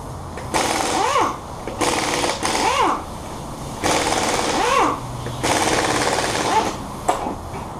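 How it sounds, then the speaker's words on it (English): A power tool removing the wheel lug nuts on a 2006 Mercedes-Benz R350 rattles in four loud, close bursts, each with a rising and falling whine, separated by short pauses. "Let's get started on removing this wheel."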